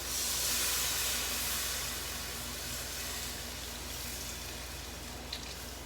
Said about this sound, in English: now I am going to add my broth into the pot